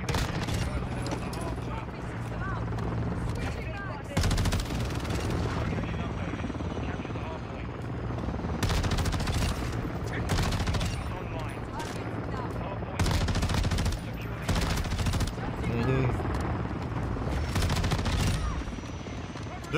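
Tempus Razorback gunfire in Modern Warfare 2 Season 4 comes as repeated rapid bursts over a constant droning engine or rotor noise, with people talking throughout.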